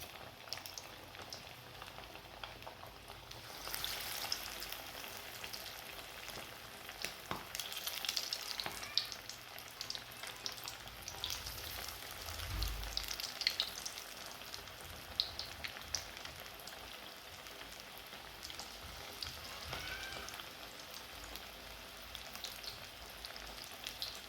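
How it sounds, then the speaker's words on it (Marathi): Chicken 65 pieces drop into hot oil and fry, a faint, steady crackling sizzle with scattered pops and a soft thump partway through, no voices over it. "एक एक असे पीस उचलून यामध्ये टाकायचे आपल्याला तेलामध्ये"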